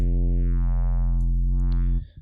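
Vital synth bass patch in a liquid neuro style, its random modulation set to sine interpolation: a steady, loud sustained bass tone whose upper harmonics sweep smoothly down and back up over about two seconds before cutting off.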